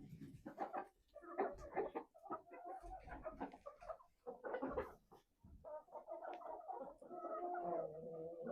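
Winter poultry crowd around feeders at feeding time, clucking and murmuring in a steady, busy chatter, with a few louder calls rising close by.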